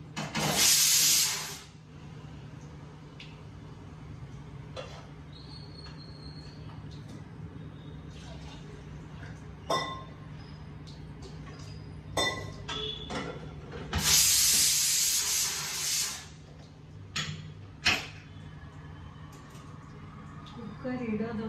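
A home kitchen pressure cooker cooking rice lets out two strong bursts of hissing steam, one at the start and a longer one later. A low background hum and scattered clinks fill the gaps, with faint talk in the room.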